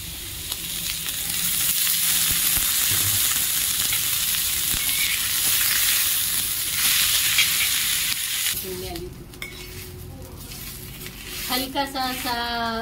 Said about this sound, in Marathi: कांदा बघा थोडासा हलकासा होत चाललेला आहे, आपल्याला हलकाच भाजायचा आहे